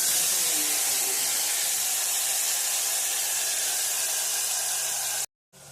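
Ginger-chili paste and asafoetida hit hot oil in a pan for a Gujarati mixed-vegetable dish, giving a loud, steady, close sizzling hiss that continues almost unbroken before cutting off abruptly.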